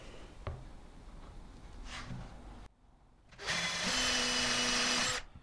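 Power drill driving screws into small wooden boards laid on a table, first a softer spell of whirring, then a loud steady high-pitched motor whine held for about two seconds before stopping.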